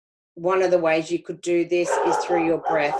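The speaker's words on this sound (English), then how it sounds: "excuse my dog barking" A pet dog barks and yips in short bursts at home, mixed in with a person speaking steadily close by.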